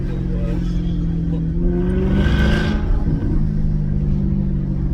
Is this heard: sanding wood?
no